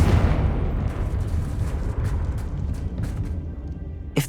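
A Confringo blast spell from Hogwarts Legacy goes off in a deep, booming explosion that rumbles and slowly decays over several seconds, with a few sharp crackles near the end.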